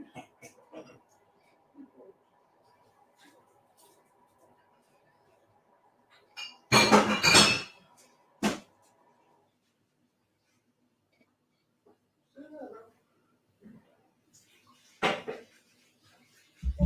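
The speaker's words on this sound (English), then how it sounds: "Just wash your glass out." A glass being rinsed out, with a burst of running water and a few light clinks of glass and dishes, separated by quiet stretches and faint murmured talk nearby.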